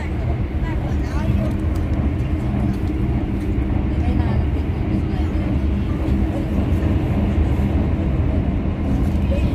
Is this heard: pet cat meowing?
no